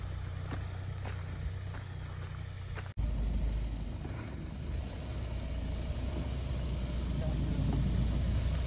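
Hyundai Venue SUVs, one petrol and one diesel, off-roading: a continuous engine drone that cuts out sharply for an instant, then returns as a heavier, louder rumble that builds toward the end.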